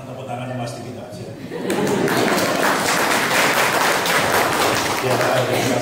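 A congregation at a family church service breaks into applause after a spoken line, a sudden full burst of many people clapping with some chuckling, sustained and fairly loud before the speaker's voice returns.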